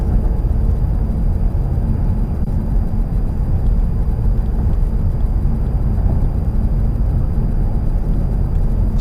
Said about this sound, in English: So this exhaust doesn't drone on the freeway or anything like that.